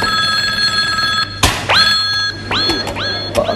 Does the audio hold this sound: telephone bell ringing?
yes